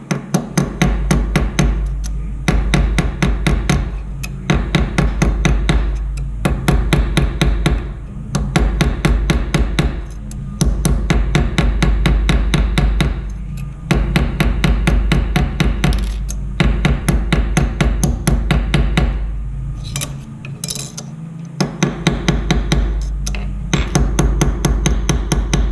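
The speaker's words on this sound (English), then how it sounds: "So I'm kind of working on the lip now with the corner of the hammer here." The corner of a jewellery hammer works the lip of a metal piece in bursts of rapid, ringing metallic taps, closely miked and loud, each run separated by short pauses.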